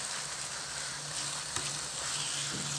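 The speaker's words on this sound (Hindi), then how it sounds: "चम्मच को बराबर हिलाते रहें ताकि इसमें इसकी गुठलियाँ ना बने।" Semolina halwa sizzles steadily in a pan while a spoon stirs it, a close, continuous frying hiss with faint scraping of the spoon.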